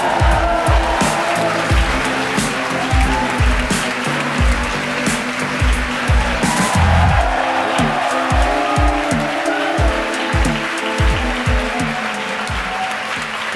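A crowd cheers and applauds at SpaceX headquarters after rocket stage separation during a Starlink launch: loud, continuous cheering and clapping fills the scene, with rumbling low bursts running underneath.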